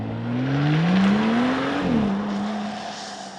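A 2025 Mercedes G550 accelerates hard from a standstill without launch control, its engine note climbing steadily and loud, easing briefly before settling into a higher, smoother drone.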